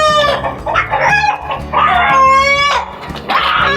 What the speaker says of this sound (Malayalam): ഇതാ നമ്മളിതാ നാടൻ കോഴീനെ